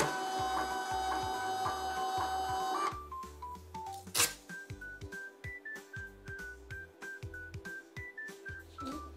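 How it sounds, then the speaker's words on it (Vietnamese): A Ghostpick 79 BW thermal label printer, controlled from an iPhone, prints shipping labels for GHTK delivery orders: a steady whirring motor hum, then a rapid run of stepping feed pulses, each with a short electronic tone, close and clear with no talk. "Bây giờ mình in lại cho mọi người xem nha."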